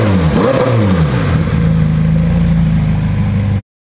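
Damaged McLaren 720S engine revving loudly after an accident, a rising then steady throaty roar with harmonics sweeping upward, continuous and close for a few seconds before cutting off abruptly.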